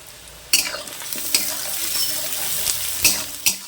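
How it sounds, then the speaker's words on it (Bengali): Onions and whole garlic cloves frying in a pan for a potato chicken curry give a near, steady sizzle, punctuated by a handful of loud stirring scrapes and clacks; no one speaks. "পেঁয়াজ ভাজা হয়ে গিয়েছে"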